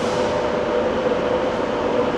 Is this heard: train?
yes